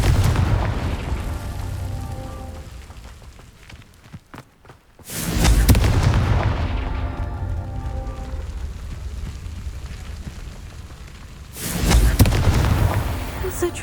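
Explosions from the Confringo spell in the Hogwarts Legacy video game, two loud deep booms several seconds apart, each with a rumbling tail that fades over the game's background sound.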